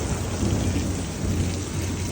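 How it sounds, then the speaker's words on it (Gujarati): Heavy rain pours steadily over farmland at sowing time, a dense close hiss with a low rumble of thunder beneath it, and no voices. "જેવા વરસાદની જરૂર છે ને એવો વરસાદ હવે જેવો"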